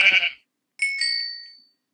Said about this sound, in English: You guys found two more sheep.